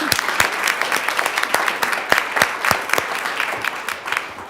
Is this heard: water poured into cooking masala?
no